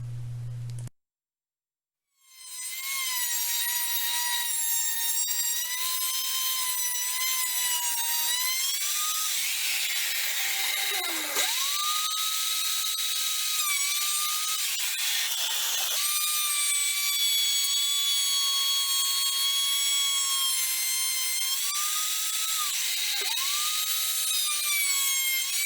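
A wood router cuts a rebate into scrap wood, its motor holding a steady high whine for over twenty seconds after a short silence, with brief dips in pitch as the bit bites into the board.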